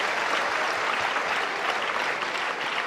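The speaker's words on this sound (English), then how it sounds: "the crowd loves it" A large arena crowd breaks into sustained, dense applause after a men's badminton doubles rally, a loud, even clatter of clapping lasting throughout with no voices heard.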